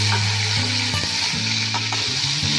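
Onions, chopped ginger, green chilies and spices sizzle loudly in a hot pan with constant crackling and occasional stirring.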